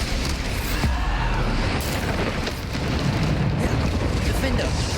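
Bombarda explosion spell in the video game Hogwarts Legacy, dense repeated booming blasts and crackling debris across the whole stretch, loud and continuous under rapid spell-casting voices.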